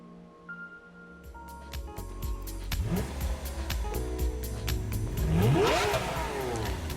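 A Lamborghini Aventador V12 in Gran Turismo Sport starts quietly, then revs and accelerates harder over several seconds, its pitch sweeping up and down in repeated rising runs, close and loud with no talk.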